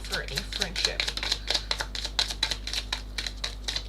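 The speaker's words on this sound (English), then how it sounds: "Let me do another shuffle." Tarot cards shuffled during a live reading, a fast run of crisp riffling flicks in repeated bursts close to the mic, with a voice talking over part of it.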